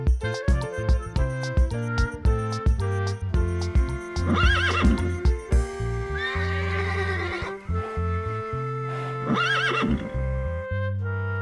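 A horse neighs loudly twice, long whinnies over a steady rhythmic clip-clop of hooves that runs throughout.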